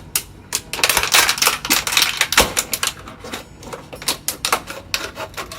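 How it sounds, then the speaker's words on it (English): Scissors snipping repeatedly around a plastic container for a kids' carrot-top greenhouse craft, a quick irregular run of close, crisp clicks and cuts with no talking. "taking the scissors, cutting around towards the top"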